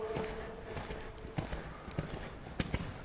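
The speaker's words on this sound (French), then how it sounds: "Laisse ton cheval dans son galop naturel." Horse hooves clip-clopping on the ground during a riding lesson, a few distinct, fairly close thuds at an irregular gait rhythm over low background noise.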